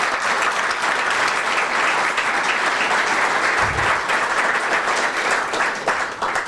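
An audience at a Becker College event gives a round of applause, with dense, sustained clapping from a crowd filling the room at steady loudness throughout.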